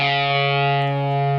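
A sustained, distorted electric guitar note rings out alone, with a slight shift in tone partway through as a pull-off changes the note.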